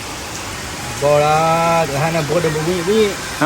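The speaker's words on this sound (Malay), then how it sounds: "It's raining." Rain falls during a bicycle touring ride toward Sabak Bernam in Malaysia, a steady broadband hiss that runs throughout under close conversational talk.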